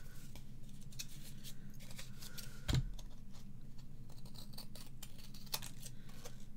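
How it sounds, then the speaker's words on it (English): Small scissors snip through card at a paper-craft table, a single short crisp cut near the middle, close and brief, against a steady low background hum. "I'm just going to remove that with my little scissors."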